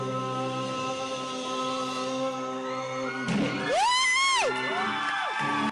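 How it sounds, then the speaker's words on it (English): Cheering crowd and whoops from an old band recording, with a loud rising-and-falling whoop near the end over sustained musical tones, fairly close and prominent. "Do you hear that applause?"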